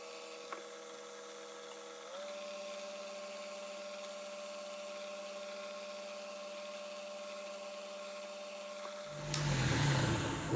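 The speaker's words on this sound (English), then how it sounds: "Take a 44 drill" A machine motor whines steadily as a number 44 drill bit bores into metal, its tone rising and holding, then a harsher grinding burst near the end.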